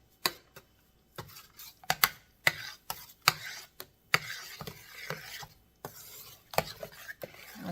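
A spoon works through a pot of spaghetti meat sauce, giving repeated close scraping, clacking strokes in an irregular rhythm, each short burst separated by brief pauses.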